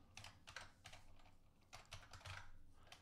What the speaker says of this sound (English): So I'm going to type in a password that I will remember here